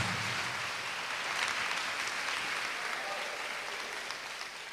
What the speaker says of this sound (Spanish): Dale una ofrenda de palmas al Señor Jesús.